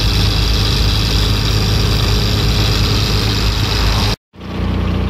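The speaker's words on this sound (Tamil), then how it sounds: "வண்டி வருது பாருங்க" A loaded goods vehicle's engine rumbles steadily and loud on a road, a continuous heavy drone that cuts off abruptly near the end, then returns more faintly.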